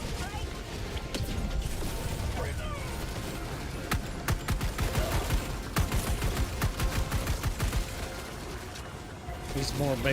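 Rapid gunfire and heavy impacts from strafing runs in the video game Helldivers 2 rattle in dense bursts, mixed with clattering mechanical game noise while a voice talks over the action.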